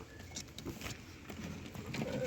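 Pigeons in a coop give soft, faint coos against a low background murmur, a few muffled calls spread across a couple of seconds.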